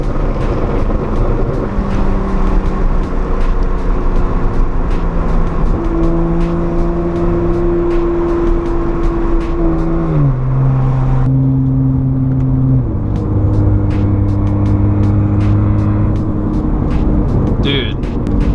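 A BMW 135i with the N54 engine, a catless exhaust and inlets, heard from inside while driving. The loud, steady exhaust drone rises through the gears, drops at each shift, then rises again.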